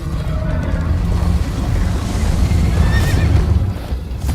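A horse whinnies in Minecraft: Story Mode over a loud, rumbling action scene with galloping and wind-like noise, the neigh rising briefly near the end.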